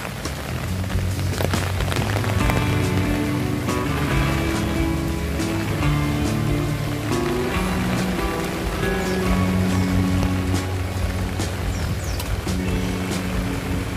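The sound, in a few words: very heavy rain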